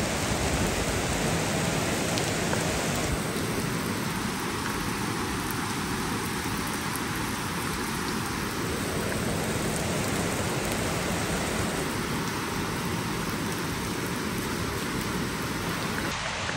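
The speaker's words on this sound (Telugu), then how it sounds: "వర్షం పడుతుంది, ఎంత గట్టిగా సడన్గా స్టార్ట్ అయిపోయింది" Heavy rain that has suddenly started in the Alleppey backwaters in Kerala, a dense, loud, unbroken hiss of drops hammering surfaces nearby, with a faint low hum in places.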